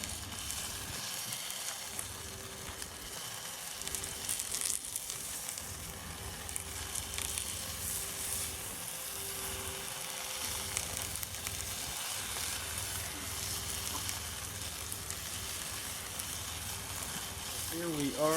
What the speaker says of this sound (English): baste it down a little bit with some of the liquid that's in the cavity